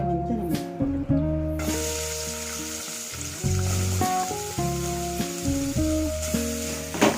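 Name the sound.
frying chopped onions in oil in a pan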